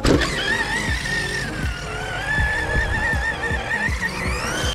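Two 1/5 scale Arrma RC cars, a Kraton and an Outcast EXB, run a drag race jump outdoors, with a steady loud electric motor whine and repeated thumps of wheels landing and bouncing throughout.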